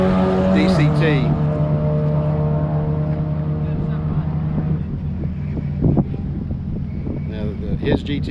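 A 2020 Shelby GT500 with a 7-speed dual-clutch transmission runs on a race track, its engine drone sliding down in pitch as it shifts and passes, with wind buffeting and a voice talking over it.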